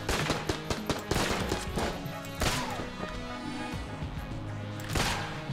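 A sniper rifle fires in Enter the Gungeon, with heavy, booming shots at intervals over a dense bed of rapid game gunfire and effects.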